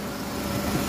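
A Suzuki Wagon R FX engine idles steadily under the open hood, a close, even low hum with no talking.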